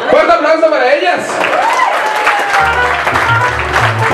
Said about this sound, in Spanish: ¡Fuerte aplauso para ellas!